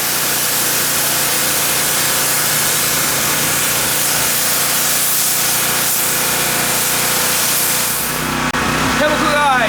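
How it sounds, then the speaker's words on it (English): A Chemical Guys Torq foam cannon on a regular nozzle at low pressure sprays foam onto a Nissan 370Z. It makes a loud, steady, broadband hiss for about eight seconds, then cuts off into quieter, uneven sputtering. "apply the foam cannon on it"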